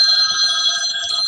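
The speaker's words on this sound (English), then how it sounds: "that's Robert's phone." A phone ringing, a steady bright electronic tone sustained through the whole short clip, loud and close with no talk over it.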